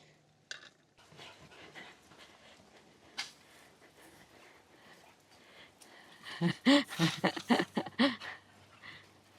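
A dog pants and whimpers excitedly near a spinning lawn sprinkler, with faint ticking early on and then a burst of loud, rapid yelps and breathy panting close by toward the end.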